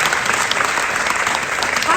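A festival audience claps for Nicolas Cage's Oscar-winning role in Leaving Las Vegas, a full, even round of applause from a large crowd that carries steadily throughout.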